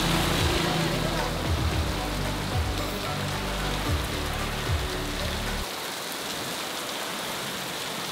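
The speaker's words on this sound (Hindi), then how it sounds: "गजब की बारिश" Heavy rain pours down in a dense, steady roar, with low rumbling noise in the first part before it settles into an even downpour.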